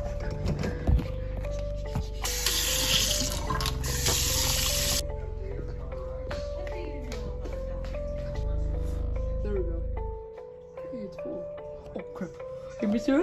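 A sink tap running in a video game, a bright hiss of water that starts abruptly and stops after a few seconds, alongside game sounds and a person talking.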